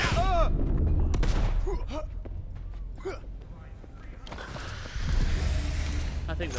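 Gunfire in the Cyberpunk 2077 video game: sharp, loud shots crack in quick bursts at the start and scattered through the middle, then heavier sustained firing near the end, with voices talking over it.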